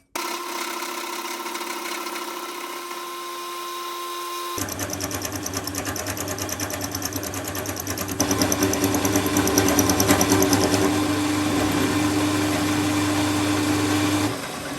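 Mini lathe cutting on its cross slide, a steady close motor hum and whine that grows louder partway through and keeps a constant tone to the end.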